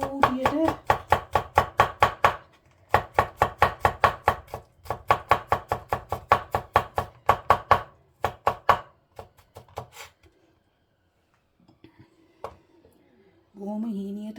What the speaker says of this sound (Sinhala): බොහොම හීනියට සුදු ලුණු ටික චොප් කරගන්න ඕන.